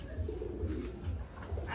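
Pigeons feeding on bran at a pigeon farm give soft, repeated low coos in a steady rhythm, close by and fairly quiet, without talking.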